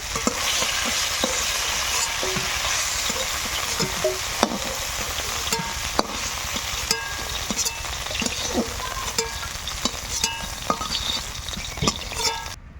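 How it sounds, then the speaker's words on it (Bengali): Potatoes and carrots fry together in a pan, a steady close sizzle broken by repeated sharp scraping and stirring clicks from a utensil, with no talk. "এবার আলু গাজর একসঙ্গে ভেজে নেব"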